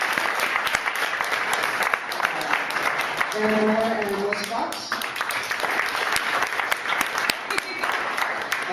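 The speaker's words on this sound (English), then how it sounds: "Let's give them a round of applause." Sustained audience applause at an evening holiday cabaret for the performers, steady clapping throughout with a person speaking over it near the start.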